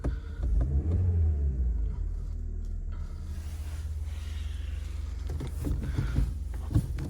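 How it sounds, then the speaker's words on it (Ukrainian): A Skoda Octavia's engine cranks and catches quickly, then settles into a steady, low rumbling idle nearby. "Заводиться автомобіль з півоберту, оберти не плавають"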